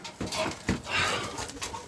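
Pet tumbler pigeons let outside give brief, close bird calls and fluttering over about two seconds, in a few bursts of moderate loudness.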